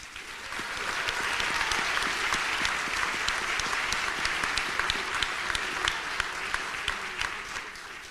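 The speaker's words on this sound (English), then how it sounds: "a big round of applause" A crowd applauds steadily for several seconds at a city State of the City address in Rochester, dense clapping that builds quickly and holds at a loud, even level.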